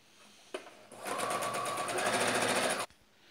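A sewing machine runs in one steady burst of about two seconds while stitching piping onto a baby jhabla garment. Its needle chatters rapidly and evenly, up close, with a brief knock just before it starts and silence after.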